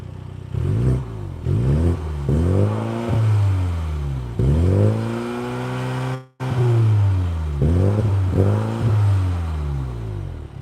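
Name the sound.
2020 MINI John Cooper Works GP engine revving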